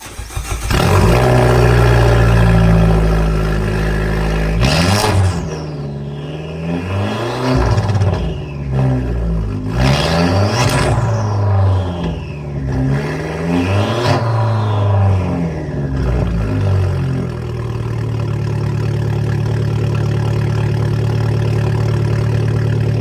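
A Fiat 500 Abarth fitted with an MPX 2.5-inch race exhaust runs loud and close, blipping through three sharp revs before settling into a steady, rumbling idle.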